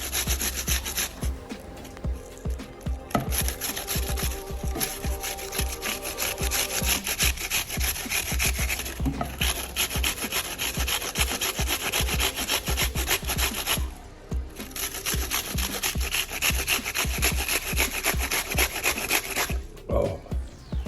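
Ingredients are rasped back and forth across a sharp grater for a beef short rib marinade, a rapid, continuous scraping close up with two short pauses and a small knock near the end.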